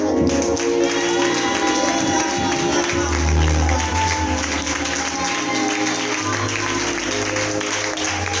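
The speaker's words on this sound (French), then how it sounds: "Je veux que tu applaudisses pour l'évêque Michel." An audience at a French church conference applauds for Bishop Michel, with steady, dense clapping filling the space and a voice speaking over it.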